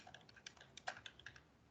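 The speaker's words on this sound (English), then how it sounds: "I'm typing." Computer keyboard typing, a quick irregular series of light clicking keystrokes over about a second and a half, close and quiet, with no one speaking.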